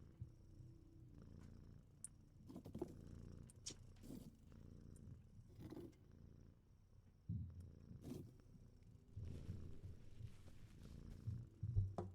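A cat in the video game No Longer Home purrs softly and continuously while being petted, a quiet low rumbling with a gentle rhythmic pulse and no talking over it.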